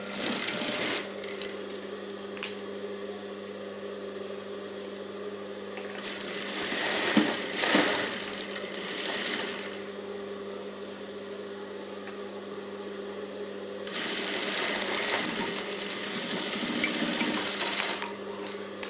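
A sewing machine stitches a princess-cut blouse seam, running in a steady whirring hum that swells louder in a few bursts, close and alone.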